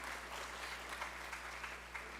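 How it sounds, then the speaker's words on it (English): Students at a university math fair give themselves a round of applause, a quiet, distant, steady patter of clapping over a constant low hum. "So please, you students, give yourselves a round of applause"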